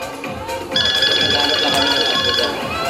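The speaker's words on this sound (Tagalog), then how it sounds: "Nagre-ring yung phone." A telephone on the Eat Bulaga Sugod Bahay segment rings in a steady, bright electronic trill lasting about two seconds, sounding under loud, busy talk and background noise.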